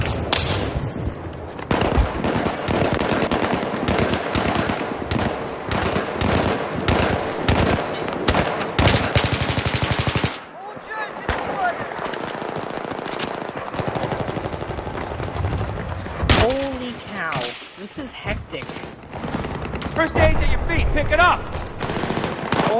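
Sustained fusillades of automatic gunfire in a Battlefield 3 Conquest match, rapid repeated shots dense for the first ten seconds and then more scattered bursts, loud and close with occasional talk.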